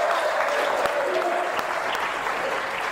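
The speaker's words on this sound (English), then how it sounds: "you're going to have to hold your applause" An audience at a coaches' introduction event applauds with steady, full clapping that fades slightly toward the end, with no one speaking.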